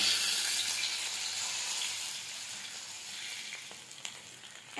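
Shashlik pieces frying in oil in a pan over a low flame, a steady close hissing sizzle that eases slightly over a few seconds, with a couple of small crackles and no talking.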